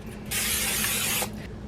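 Cooking spray hisses from a can in a kitchen while oatmeal protein balls are made, one steady close burst lasting about a second over a low background rumble.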